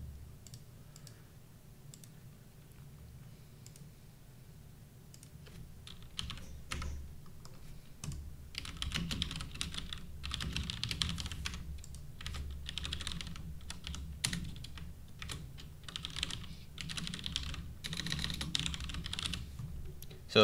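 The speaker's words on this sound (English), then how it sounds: "So the keyboard that I'm using is a DAS keyboard." Steady bursts of mechanical key clicks from a DAS keyboard fitted with brown switches, close and moderately loud, coming in irregular runs with brief pauses and no voices.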